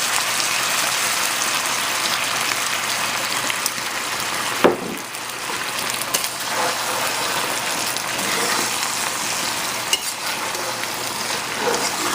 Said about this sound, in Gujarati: તો આપણે થોડોક સોય સોસ નાખશું અને થોડુંક વિનેગર નાખશું